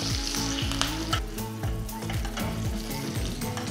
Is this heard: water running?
no